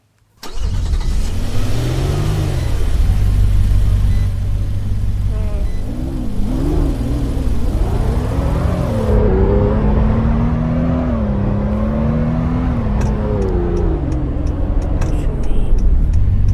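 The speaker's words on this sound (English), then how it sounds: "I'm just pressing the gas pedal." A Mazda RX8 engine cold-starting, then revving repeatedly as the gas pedal is pressed, the loud, close rotary note rising and falling in waves, with a voice briefly audible.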